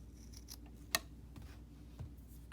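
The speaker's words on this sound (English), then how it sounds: "it'd be good if I was using my good scissors" Scissors cut fabric for a three-layer face mask, a few quiet snips and scrapes spaced irregularly over a soft background, one crisp snip standing out.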